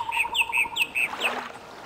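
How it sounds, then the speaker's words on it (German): Loud bird chirps in the Gothic 2 mod, a rapid series of bright, repeated tweets close by, followed by a few softer calls and a faint background hum. "Oh, was sind die Vögel laut?"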